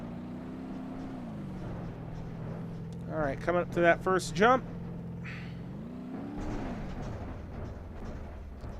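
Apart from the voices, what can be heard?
'75 Ford LTD engine revving in video game BeamNG.drive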